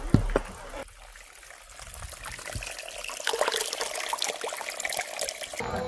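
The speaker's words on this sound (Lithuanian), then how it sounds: "Ir upelis matos, Sima." A mountain stream in the Dolomites trickles and babbles at a moderate distance, a soft continuous wash of water that grows slightly fuller partway through, with no talk over it.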